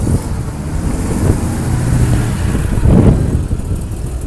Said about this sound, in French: Encore une Porsche.